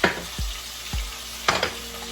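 Butter melts and sizzles in a hot pan with steaks, a steady close frying hiss broken by a couple of low thumps and a sharper clatter of utensils, with no talking.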